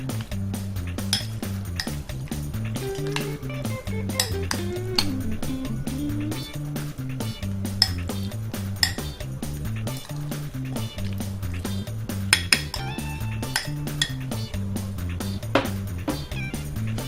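Mutton pieces are tossed with spices in a bowl, with repeated light clinks and scrapes of a utensil against the dish over a low steady kitchen hum, close up and without speech.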